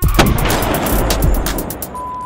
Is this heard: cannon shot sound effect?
yes